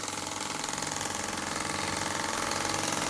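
A Myfordboy wobbler model steam engine runs on a small boiler with a rapid, even chuffing beat that stays steady and close throughout.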